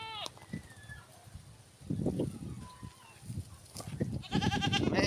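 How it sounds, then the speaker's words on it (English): Goats bleat several times nearby, wavering calls overlapping with people talking and some outdoor noise. "Looks like we've got the goats."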